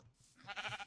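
Sheep bleat in a video game, a short run of nasal, wavering bleats that swell in the second half after a quieter start, fairly close and with no talking over them.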